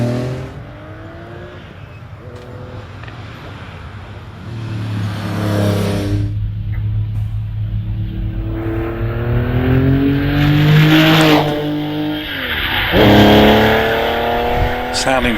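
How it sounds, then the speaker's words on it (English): A Porsche Carrera race car climbs the hill at the British Championship Hillclimb at Harewood, its engine revving and rising in pitch through the gears as it goes, heard under live commentary. "Sounding very, very nicely as it goes up the hill. Beautiful sonorous sound to the Porsche."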